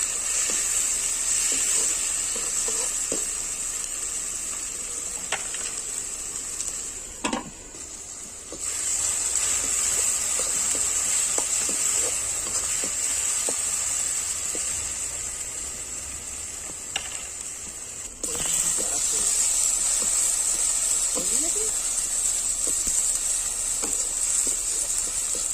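Tomatoes and kasuri methi frying in a pan for a fish curry, a steady close hiss and sizzle running throughout, with occasional faint clinks and scraping, and two brief dips where the sizzle drops away.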